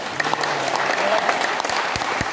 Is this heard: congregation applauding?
yes